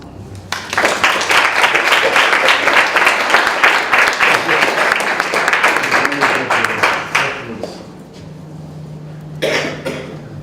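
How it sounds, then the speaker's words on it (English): Audience at a talk on gentrification in Manhattanville applauds loudly for several seconds, the clapping tapering off, followed by a brief cough and a last short burst of claps. "I shall invite you to welcome him with applause"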